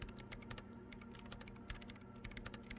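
Rapid, steady clicking of keys as commands are typed on a computer keyboard in the video game Disco Elysium, close and continuous with no voices.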